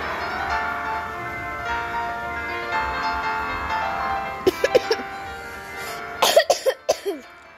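Several short coughs come in two clusters, loud and close, over a steady background of Pirates of the Caribbean game sounds.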